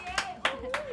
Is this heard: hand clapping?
yes